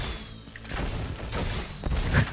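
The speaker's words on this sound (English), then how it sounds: "Let's try flare gun." A flare gun fired in the shooter game Roboquest, a few sharp pops and thumps with a brighter blast near the end, close and loud over game ambience.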